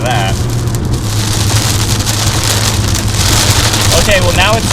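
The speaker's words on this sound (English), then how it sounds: "Okay, well now it's downpouring, you can hear that." Heavy rain pours down in a loud, constant hiss, with a low engine hum underneath and a few brief tonal squeaks.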